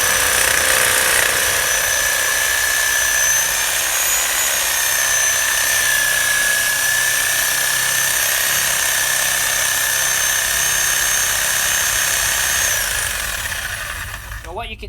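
Screwfix Titan reciprocating saw cutting into a bay tree trunk, a loud continuous buzzing rasp that holds steady before easing off near the end, heard close up.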